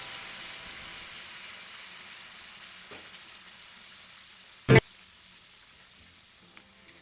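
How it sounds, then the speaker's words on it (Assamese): Hot water poured into soybean curry frying in a pan gives a steady, close sizzling hiss, with one sharp, loud splash-burst partway through before the sizzle settles again. "এতিয়া অলপ গৰম পানী দি দিছোঁ।"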